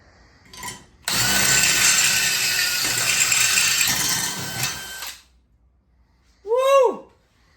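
DeWalt cordless drill boring steadily through material, a loud continuous whine with load rumble that runs for about four seconds before stopping, followed by a brief high-pitched chirp.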